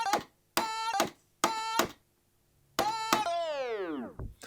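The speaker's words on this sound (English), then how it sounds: "it's just going to give us a little break effect near the end." Short bursts of a music loop stutter on and off with gaps, then the sound slows and drops steeply in pitch, like a tape stop.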